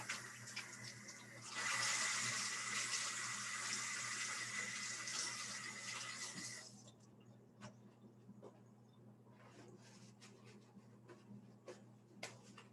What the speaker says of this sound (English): let me go ahead and rinse my hands